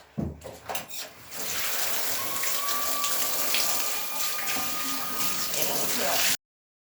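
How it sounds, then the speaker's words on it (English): Dyed fabric is rinsed under a steadily running tap, a continuous splashing wash of water that stays loud and close for most of the stretch after a few brief handling knocks at the start. "I'll rinse it out."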